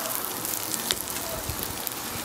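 Potatoes and onions sizzle in a skillet over a StovTec rocket stove, a steady close crackling hiss with a few sharper pops, heard alone.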